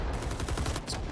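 Rapid automatic gunfire from the Vietnam War video game Rising Storm 2: Vietnam, a loud dense burst of close shots laid down as suppressing fire, lasting about a second.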